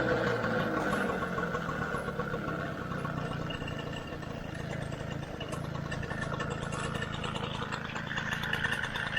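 A Peugeot Vogue moped's small engine idles steadily close by, a continuous buzzing putter at even loudness throughout with no talking.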